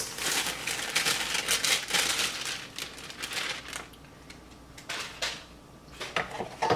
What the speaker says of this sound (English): here I have a large bowl, and what we're going to do is add our cake mix